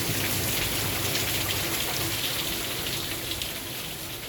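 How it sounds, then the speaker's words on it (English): A heavy summer afternoon downpour in Brisbane, dense rain hammering down in a loud, unbroken hiss that stays strong and close throughout, with no voices. "Brisbane delivers its trademark downpour."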